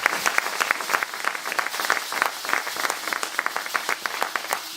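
A Congolese church congregation at a prayer gathering applauds loudly and steadily, a dense close clatter of many hands clapping throughout with faint voices mixed in.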